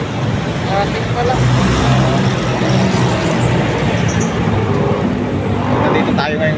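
Road traffic on Buendia in Pasay, a dense steady rumble of passing vehicles close by with occasional higher engine and brake tones, continuous and fairly loud.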